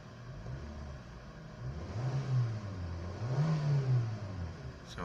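A Kia Picanto engine idles close by, then revs twice in smooth rising and falling swells before settling back. No one speaks over it.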